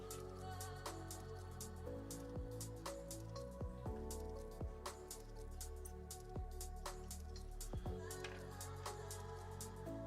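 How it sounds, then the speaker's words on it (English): A dog laps water from a bowl, producing a steady run of wet slurping and dripping clicks, close and fairly loud, continuing throughout without pause. "Can you hear my dog drinking water?"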